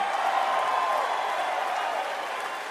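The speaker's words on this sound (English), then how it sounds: "Listen to that applause." Broad, steady applause from a large audience at a political speech, a dense wash of clapping that holds at an even level and fades slightly toward the end, with no voice over it.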